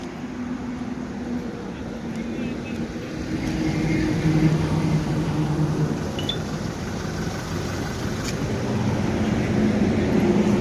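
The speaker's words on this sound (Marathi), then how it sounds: "गाडी चालू आहे चालू इतक्या सकाळ सकाळ गड्याला गाडी चालू ठेवायची काय गरज आहे" Toyota Innova Crysta left idling on a cold early morning, a low steady engine hum close by that swells slightly, with someone talking over it.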